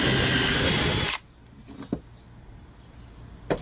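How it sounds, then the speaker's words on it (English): A power drill bores a hole in wood with a loud, close whirring grind for about a second, then stops abruptly, followed by a few faint knocks and handling sounds. "we'll just drill this off the bat"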